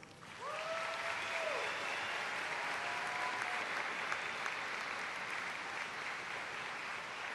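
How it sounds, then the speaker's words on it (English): A large audience at a 2012 university commencement ceremony applauds the faculty, steady sustained clapping that fills the hall for the full length, fairly distant, with a brief tonal sound at the start. "I ask that you demonstrate your appreciation by applauding the faculty"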